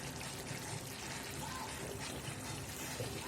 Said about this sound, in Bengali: এর মধ্যে আমি একটু কাঁচা তেল, সরষের তেল দেবো